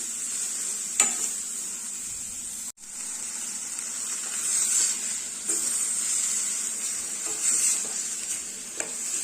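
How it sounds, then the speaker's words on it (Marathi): Guar and potato bhaji with raw tomato frying in a pan, heard as a steady hissing sizzle with a few faint stirring scrapes and one brief dropout, fairly quiet and continuous throughout. "व्यवस्थित असं हे मिक्स करून घ्यायचं"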